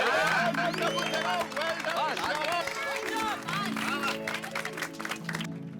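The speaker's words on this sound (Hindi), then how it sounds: "एक बार जोरदार तालियां हो जाए टप्पू सेना" Studio audience applauding and cheering for the Tapu Sena's festival theme on the Taarak Mehta Ka Ooltah Chashmah set, a dense steady wash of clapping and crowd noise mixed with music and voices throughout.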